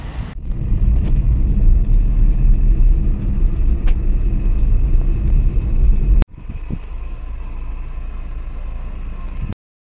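A car driving along gives a strong, steady low rumble inside the cabin. The rumble changes abruptly partway through and then cuts off just before the end.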